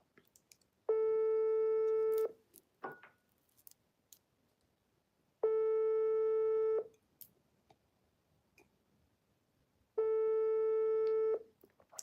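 A telephone ringback tone during an outgoing call, three long steady buzzing tones spaced evenly a few seconds apart, with faint clicks and quiet background between them.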